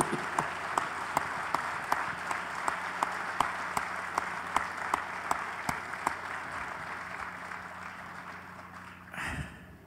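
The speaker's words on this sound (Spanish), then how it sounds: "un aplauso, ¿no? a Cárdenas y a él" Audience applause at a book presentation during a book fair in the Zócalo, sustained clapping with a few sharp, regularly spaced claps standing out over the crowd.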